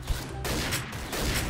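Sniper rifle shots from the XSHOT game, an APC-800, crack in several sharp, fairly loud bursts in quick succession amid steady background game noise.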